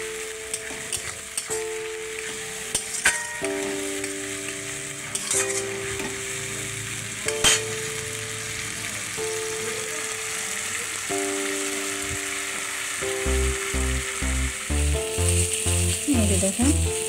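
Cabbage and chicken masala with salt and turmeric frying in oil, a continuous close sizzle with repeated spatula scrapes and stirring clinks, the stirring growing busier and louder toward the end.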